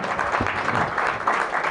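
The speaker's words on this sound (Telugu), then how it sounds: "అందరు గట్టిగా చప్పట్లు కొడదాం." A church congregation clapping loudly together, a dense continuous patter of many hands filling the room.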